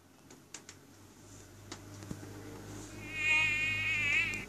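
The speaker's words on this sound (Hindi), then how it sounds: "मच्छर का आवाज।" A mosquito buzzing close by, a thin wavering whine that rises in the last second and a half after a few faint clicks and taps in a quiet room.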